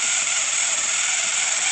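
A mechanical lock is worked with a tension wrench, giving a steady rapid ratcheting whir, close and fairly loud, with no talking.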